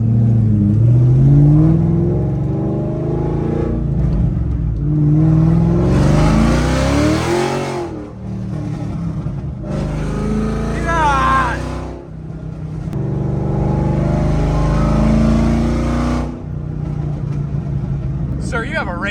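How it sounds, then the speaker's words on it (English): Procharged Ford Mustang Cobra engine revving hard in repeated loud bursts, each rising to a shrill supercharger whine and falling back, while excited voices talk over it. "This has got to be the best sounding Mustang I think I've ever heard."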